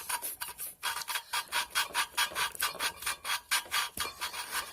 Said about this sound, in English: I'm basically just spinning the valve to where it basically sands its own groove into the seat